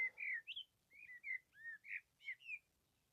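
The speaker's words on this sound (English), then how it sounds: "Bird song is beautiful." Birdsong outdoors on a beach on the Isle of Man: about nine short, clear chirps and whistled phrases in quick succession, close and fairly bright, over a quiet background with no talk.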